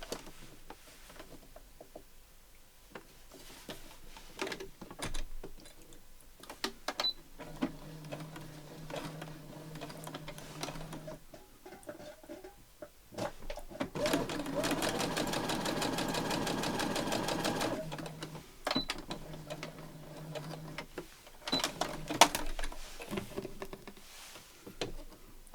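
A sewing machine joins patchwork fabric pieces for a tablet pouch, starting with scattered handling clicks, then settling into a steady, fairly faint run of rapid stitching that stops and starts again.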